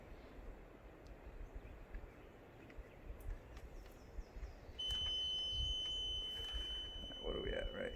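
A thin, steady electronic beep tone from a Seametric CT2X water level data logger comes on partway through and holds, faint over a low, noisy background rumble.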